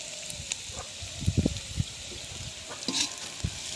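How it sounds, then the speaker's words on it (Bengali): Vegetables frying in white oil with a little ghee: a constant soft sizzle with a few stirring scrapes and knocks of a spoon in the pan, moderately quiet and close, without speech. "সবজিগুলো ভাজা হচ্ছে"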